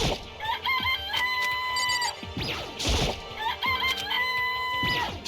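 Video game chickens cluck and crow in repeated bursts, clear and close, with a couple of sharp smacking hits in between.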